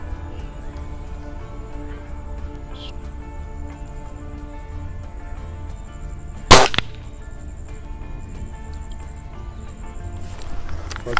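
A Cometa Fusion Galaxy air rifle fires a 15.43-grain Magnum Energy pellet: a single sharp, close crack roughly midway through, set against a low, steady background hum.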